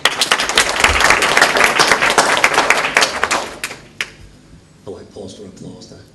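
Audience applause at an election hustings in a hall, brisk clapping that fades out after about four seconds, followed by a few scattered claps and a voice beginning to speak.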